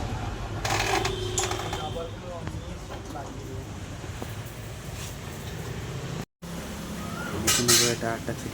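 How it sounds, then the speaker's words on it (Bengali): A tyre-fitting machine mounts an Apollo 100/90/17 tubeless tyre for a Pulsar 150 motorcycle at a tyre shop, with steady mechanical whirring and sharp metallic clanks near the end, while voices talk in the background. "মেশিনে করে টায়ারটা ফিটিং করা হচ্ছে"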